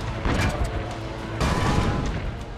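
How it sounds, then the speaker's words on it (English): Cannon fire during a siege battle in the Assassin's Creed Brotherhood video game: heavy booming blasts and rumbling explosions in quick succession, loud and dense, with a chaotic battle din between them. "Load the cannon. Destroy their cannons,"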